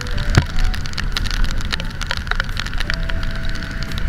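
Heavy afternoon rain in Baguio City's South Barrio, heard as a steady, loud, dense wash of drops pattering on surfaces, with scattered sharper impacts and a faint passing tone, and no talk.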